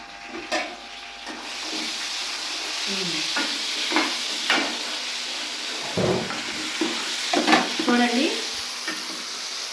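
Fish sizzling and frying in hot oil for a village-style fish curry, a steady bright hiss with intermittent stirring scrapes and pops, close and alone.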